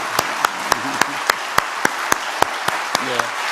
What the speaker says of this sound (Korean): 한번 가슴에 있는 마음을 담아서 박수 한번 드릴까요?